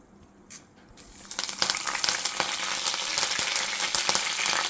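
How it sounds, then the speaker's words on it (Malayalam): Mustard seeds and fenugreek hit hot coconut oil for a Travancore fish curry: after a brief quiet start, a rapid, loud crackling and spluttering builds and keeps popping densely to the end. "എണ്ണയൊന്ന് ചൂടായി വരുമ്പോഴേക്ക് അതിലേക്ക് നമുക്ക് കടുക് ഇട്ട് കൊടുക്കാം"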